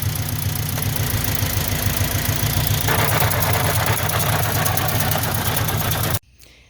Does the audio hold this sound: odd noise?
yes